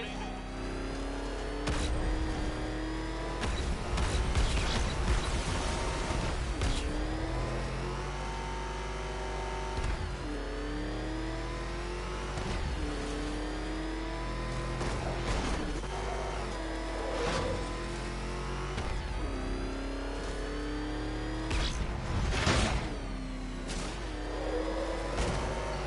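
A Batmobile from the Batman Arkham Knight video game rumbles and revs steadily as it drives, with rising and falling engine tones and occasional bursts of impact noise, all under nearly continuous talk.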